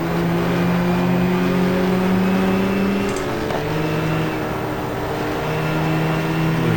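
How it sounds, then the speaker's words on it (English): A fat turbo Porsche race car in the GTR2 video game drones loudly and continuously at high revs, its engine pitch dipping briefly midway before climbing again, with no talking over it. "Porsche, fat turbo Porsche having another go."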